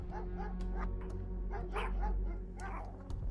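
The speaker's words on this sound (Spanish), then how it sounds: "Oí los perros que gruñían y jadeaban" Dogs in a gothic ghost story setting, a series of short yips and barks with whimpering between them, fairly close, repeating several times over a low hum.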